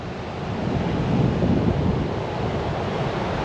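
Steady rushing surf of sea waves at the beach at night, broad and continuous, with some wind buffeting the microphone.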